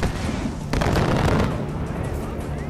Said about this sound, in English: Where are those mortars coming from?